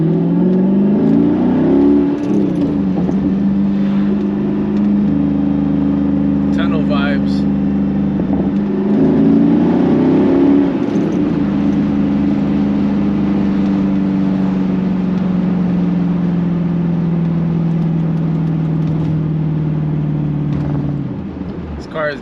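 A Mercedes ML55 AMG engine drones steadily and loudly throughout the drive, its pitch rising and falling with gear changes and throttle, with a couple of brief revs around the middle.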